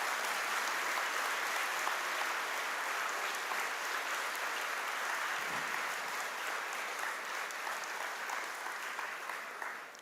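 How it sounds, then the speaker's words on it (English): Sustained applause from a large audience at a university freshers induction programme in Chennai, a steady dense clapping that fills the whole stretch at an even loudness, with no talk over it. "It's your turn to give them a big applause."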